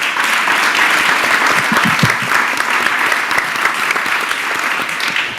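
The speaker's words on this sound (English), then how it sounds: "let's have one round of applause for the candidates here tonight" A loud, dense round of applause fills the hall at a mayoral candidates' forum, steady and sustained throughout with no talking.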